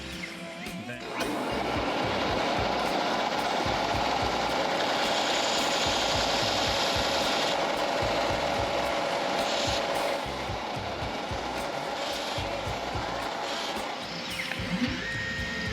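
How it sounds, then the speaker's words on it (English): A metal wheel flange for a G gauge train car is sanded down, giving a continuous buzzing, grinding drone that starts abruptly and runs steadily, close and loud, with a slight shift partway through. "After we sand these down,"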